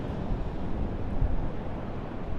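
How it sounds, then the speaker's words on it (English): Strong offshore wind off the Southern California coast roars steadily over ocean waves, a dense, constant rush with buffeting gusts and no talk. "it is breezy down here offshore. It is blowing really, really hard."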